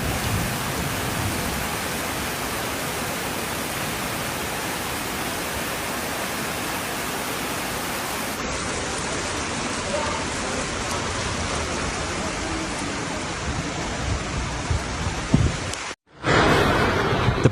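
Heavy rain from a storm in Barcelona, Catalonia, pours as a dense, steady, loud roar that holds unbroken for about sixteen seconds, then drops out abruptly before returning.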